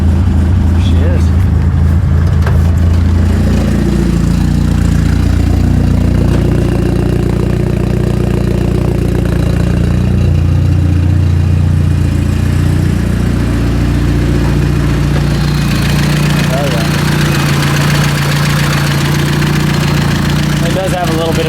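A Datsun 510 with an SR20DET engine idles steadily after a cold start, loud and close, its rough rumble carrying the ticking puff of an exhaust leak at the header.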